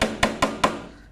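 Three sharp hammer taps, evenly spaced and close, strike a small solar panel on a homemade solar windmill, each knock ringing briefly before fading into quiet.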